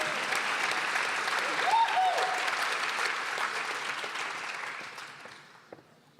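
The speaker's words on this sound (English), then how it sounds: "We can clap." An audience at a dentistry white coat ceremony claps in a dense, sustained round of applause that fades out near the end.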